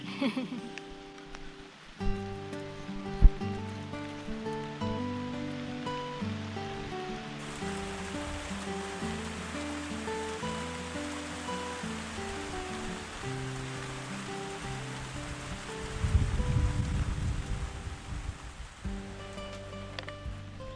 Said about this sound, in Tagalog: Umuulan na mga kabukids.